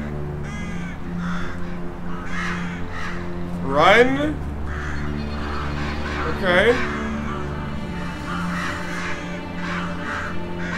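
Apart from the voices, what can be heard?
crows cawing in a video game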